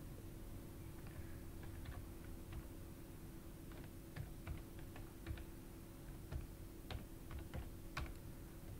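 Typing a web address on a computer keyboard: scattered light key clicks with irregular rhythm, moderately close, set against a steady low hum of background noise, with no voices.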